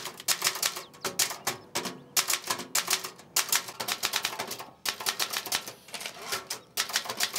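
Rapid mechanical typewriter keystrokes in dense bursts with short pauses, loud and close, clattering steadily for several seconds with no talk over them.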